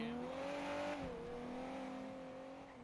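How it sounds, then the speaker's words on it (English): A loud car in GTA V on a NoPixel roleplay server pulls away, its engine note holding a steady tone, dipping briefly and then fading slightly as it drives off. "Does anyone know why that car's so loud?"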